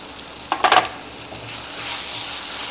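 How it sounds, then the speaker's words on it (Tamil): Cumin, chili, coriander and turmeric powders sauté in a pan, a soft sizzle with a brief burst of stirring scrapes near the start, then a steady low frying hiss. "இது எல்லாத்தையும் ஒரு நிமிஷம் வதக்கினா போதும்."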